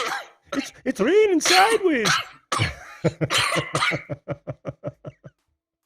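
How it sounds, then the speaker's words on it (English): A person with a persistent cough speaks briefly, then lets out a rapid run of short, sharp coughs that quickly fade away. "I can't get rid of this bloody cough"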